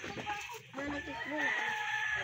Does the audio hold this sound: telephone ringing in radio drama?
no